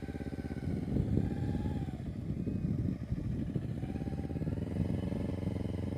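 Motorcycle engine idling and pulsing at low revs during a slow full-lock turn in a parking lot, a steady close rumble with slight throttle swells and no speech.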